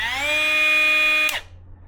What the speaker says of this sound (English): It doesn't keep spinning like a normal angle grinder, so that's pretty cool.